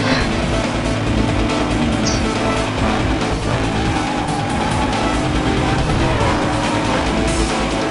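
A car racing at speed in the video game Need for Speed Most Wanted, with a loud, steady engine roar and dense game sound filling the whole stretch without a break.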